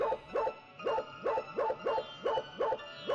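Dog in the Foreign Creature 2 video game barking in a steady, evenly spaced series of about eight sharp barks, loud and close, with no talk.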